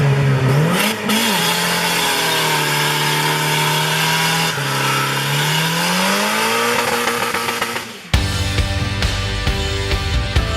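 An engine-swapped car held on a hydraulic hand brake revs hard and loud nearby, its pitch climbing and sagging in sustained pulls before surging sharply as the brake lets go.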